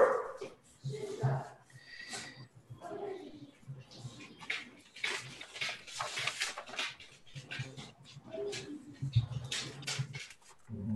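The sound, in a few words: dog barking and whimpering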